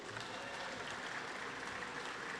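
A crowd at a live evening event gives a dense, steady round of applause, many hands clapping together at an even level without a break, heard from within the audience.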